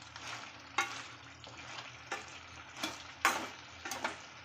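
Boiling aviyal, a vegetable curry, is stirred in a pot, giving soft bubbling and a handful of sharp scraping clinks spaced irregularly, quiet and close, with no talk.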